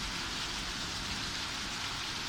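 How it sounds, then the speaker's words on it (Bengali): Steady rain patters continuously on an umbrella, a dense, even hiss of drops close by with no voices. "আমার ছাতাটা ভিজে যাচ্ছে, আমি ভিজবো না। তো গাইস তোমরা একটু বৃষ্টিটা দেখে নাও"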